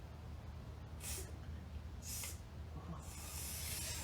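An aerosol spray hits the brakes of a Mercedes-Benz C240 during a brake repair: three short hissing bursts, the last one longer, fairly faint against a low background.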